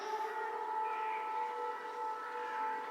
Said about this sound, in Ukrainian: повітряна тривога